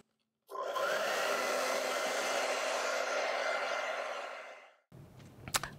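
Hair dryer blowing on wet acrylic paint, a loud steady close whoosh that starts abruptly and runs for over four seconds before cutting off, followed by faint clicks and rustles.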